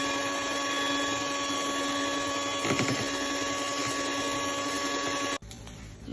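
Electric mixer beating cake batter with sugar for a steamed rainbow cake, giving a steady whirring motor tone with a brief rattling burst midway before the motor cuts off near the end.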